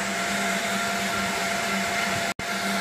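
A fan on a Buleryan wood stove blows hot air hard, producing a steady, loud whooshing drone with a faint hum, broken by a brief dropout near the end.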